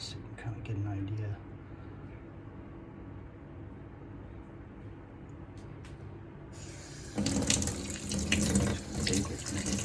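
A kitchen sink faucet runs water to rinse a removed spout aerator filter, a quiet trickle at first that swells into a loud, splashing gush near the end.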